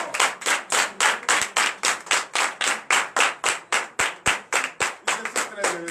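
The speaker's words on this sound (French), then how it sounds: "Donnez encore plus d'acclamations" A congregation at a night deliverance and prophecy service claps in unison, a sharp, regular beat of crisp, loud handclaps repeating several times a second, with a few voices faintly underneath.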